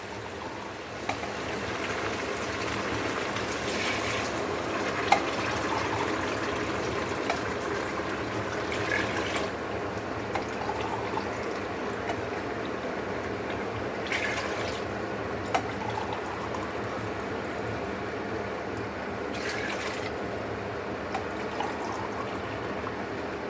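Water is poured steadily into a pot of rice and chickpeas for pulao, a continuous gushing, splashing stream lasting many seconds with a few brief clinks and knocks along the way.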